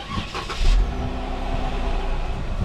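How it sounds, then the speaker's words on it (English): A car idling through its exhaust with the muffler still fitted, a steady low rumble heard close for a few seconds with a brief louder burst near the start. "cutting off the muffler is just gonna do the trick to make it sound just a bit more aggressive"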